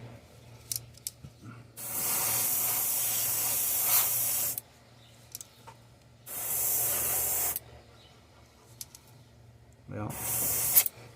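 An airbrush sprays paint onto a bluegill-pattern fishing lure in three sustained hissing bursts of a couple of seconds each, separated by quiet gaps with small clicks.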